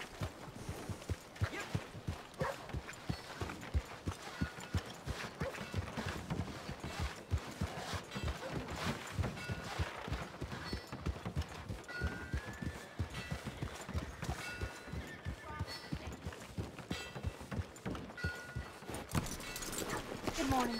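Horse hooves clip-clopping at a steady gait in Red Dead Redemption 2, a continuous busy rhythm running under game music and voices of characters talking throughout.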